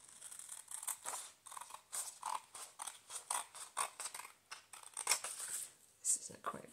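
Scissors snip through paper scraps while making postcards, with a quick series of short crisp cuts at close range. A voice speaks intermittently over the cutting.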